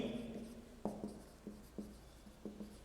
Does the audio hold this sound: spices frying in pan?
no